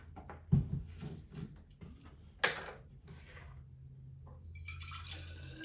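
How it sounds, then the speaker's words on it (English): Chilito Water, a drink also called Sunrise, is poured from a container, with a few clunks and splashes followed by a quiet, steady stream of liquid, faint and close. "We got the end product of Chilito Water, also known as Sunrise. Let's give this a good pour."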